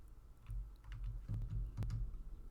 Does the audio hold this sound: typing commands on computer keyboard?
yes